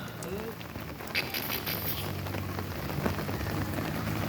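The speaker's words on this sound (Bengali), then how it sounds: "বৃষ্টি হচ্ছে দেখতে পাচ্ছ।" Steady rain falling outdoors at a hillside location, a continuous broadband hiss with scattered drop impacts, fairly loud and even throughout, with faint voices in the background.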